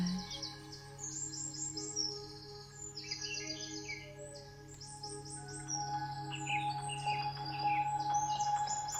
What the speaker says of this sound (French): apportant avec elle le chant lointain des oiseaux